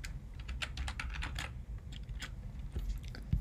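Rapid clattering keystrokes on a computer keyboard while JavaScript code is typed, a steady close run of uneven clicks with no talking.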